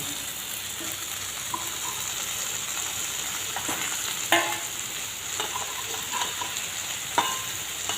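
Eel pieces frying in a pan for a spicy fish curry give a steady, close sizzle and hiss throughout, broken by a few sharp spatula scrapes and clinks.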